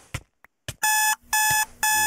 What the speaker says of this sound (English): I've got an alarm clock going off really loud